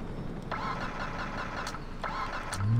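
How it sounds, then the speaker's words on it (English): A car engine in GTA 4 cranking and failing to start, heard as two short strained bursts about a second and a half apart over a low, rumbling background. "this car won't even start"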